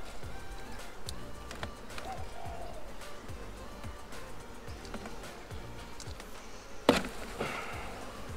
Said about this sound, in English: Bees get caught as they come up.